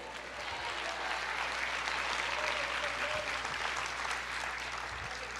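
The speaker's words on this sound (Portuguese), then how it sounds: "Aplauda o Senhor, diga: eu creio." A church congregation applauds at a worship service, a dense, steady wash of clapping that holds evenly for several seconds with no break.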